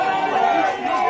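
Football crowd at an NTFA Premier League senior men's match reacting to a kick going out of bounds on the full, an animated murmur of many voices with a commentator talking over it.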